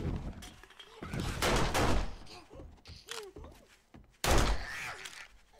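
Police gunfire in a rooftop-level video game comes as several sharp thumping shots and bursts, with a loud volley near the end, while a player's voice reacts faintly in between.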